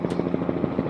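A helicopter at an air show sends out a steady, fast rotor thump that beats rhythmically and stays loud throughout the short stretch.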